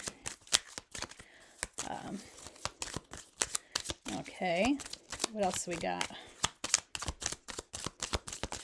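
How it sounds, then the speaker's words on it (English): Tarot cards being shuffled, a rapid run of sharp papery riffles and snaps in irregular bursts, close to the mic, with a voice speaking briefly in the middle. "I'm shuffling off camera. I just wait for the cards to fly out"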